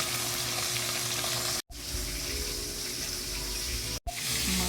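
Fish sizzles steadily in hot cooking oil over a moderate flame, a dense, continuous frying crackle close to the pan, broken by two brief silent gaps.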